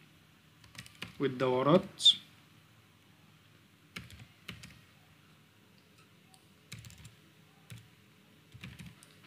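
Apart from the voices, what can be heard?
typing a report name on computer keyboard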